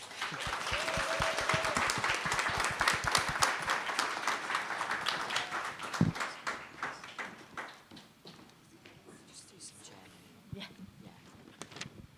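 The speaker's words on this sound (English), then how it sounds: "Another round of applause." Symposium audience claps for a panel of speakers, a dense round of applause that thins out and fades to scattered claps, heard from within the room.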